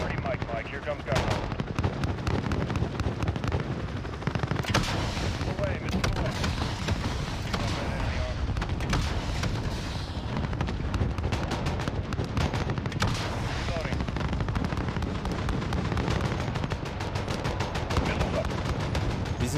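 Heavy air-support gunship gunfire in Call of Duty Modern Warfare (2019), a loud, dense barrage of shots and blasts that runs without break for about twenty seconds.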